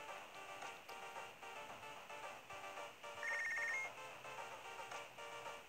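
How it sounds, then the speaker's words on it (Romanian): A phone ringing in the Punch Club video game, a faint repeating electronic ring pattern with a rhythmic pulse over soft game music, with no talk. "Mi-a sunat telefonul."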